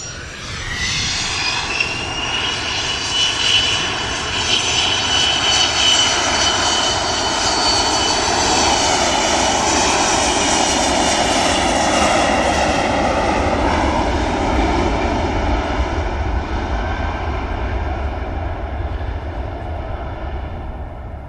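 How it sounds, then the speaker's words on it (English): A Loganair Embraer jet takes off bound for Aberdeen, Scotland, at Manchester Airport: a loud, steady engine roar with rising turbine whine that holds for the whole stretch, then slowly eases as it climbs away. "about to rotate is the Embraer, heading up to Scotland"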